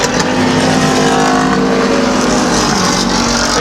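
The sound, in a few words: pure stock race cars racing at Midvale Speedway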